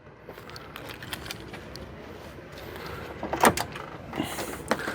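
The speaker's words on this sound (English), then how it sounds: "You open the passenger door." Passenger door of a wheelchair-accessible 2015 Chevrolet Silverado 1500 LT pickup opens with a series of close mechanical clicks and a sharp latch clack, then faint rattling.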